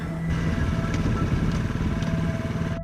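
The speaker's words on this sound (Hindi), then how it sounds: "उसने अपनी गाड़ी को स्टार्ट किया, स्पीड बढ़ाई" A motorcycle engine runs steadily with a rough, rumbling idle and slight revving as a sound effect in a Hindi horror story, loud and continuous without speech.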